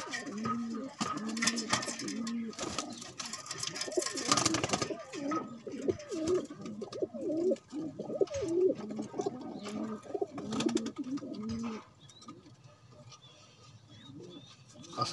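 Pigeons, including a small female, coo repeatedly in soft, throaty, rhythmic bursts close by, with several overlapping calls for most of the stretch before fading to quieter cooing near the end; faint background noise underneath.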